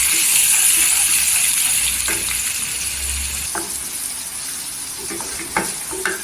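Chili thecha tempering sizzles steadily in a pan on a home stove, with coriander going in; a bright, continuous frying hiss with a few soft clinks and taps near the end.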